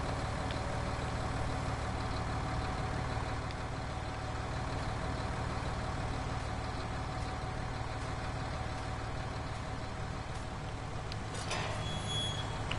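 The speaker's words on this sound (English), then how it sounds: "Shouldn't really leave an unattended tractor running" Tractor engine idling in the Farming Simulator 19 video game, a steady low mechanical drone held evenly throughout with no speech, a faint high beep or click appearing near the end.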